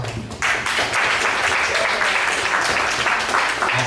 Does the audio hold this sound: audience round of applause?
yes